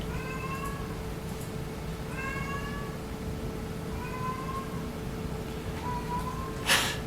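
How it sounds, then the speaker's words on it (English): A cat meows loudly and repeatedly indoors, four drawn-out, rising cries spaced a couple of seconds apart over a steady background hum, with a short sharp noise near the end. "in the background I have a cat screaming"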